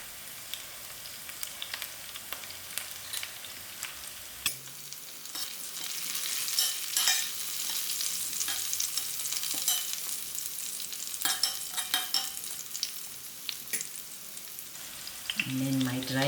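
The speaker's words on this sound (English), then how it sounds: "Now we're gonna put in our bay leaf our cinnamon stick to fry out," Bay leaf, cinnamon stick and curry leaves fry in hot oil for a mung bean dhal curry, giving a steady close sizzle with crackling pops and occasional stirring clatter throughout, without speech.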